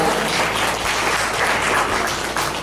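An audience at a children's school show in Bangalore claps steadily and densely for 2.7 seconds. The sound is a broad, sustained wash of applause with no voices standing out.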